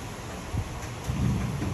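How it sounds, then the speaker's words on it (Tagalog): Heavy rain pours steadily during a thunderstorm, a dense broadband wash with low rumbling swells that build toward the end, close and fairly loud with no talking. "Malakas po, Ma'am Marisa, yung ulan."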